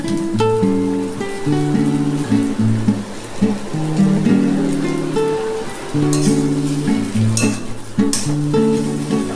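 Drained flattened rice (chira) tipped into a hot pan for chirar polau, setting off a loud, uneven crackling sizzle that comes and goes in bursts with stirring scrapes, close by and with no talk.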